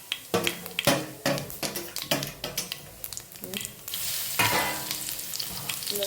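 Mustard seeds and cumin crackle and pop in hot oil in a kadhai. Sharp irregular bursts come close, then settle into a steady, louder sizzle with faint stirring.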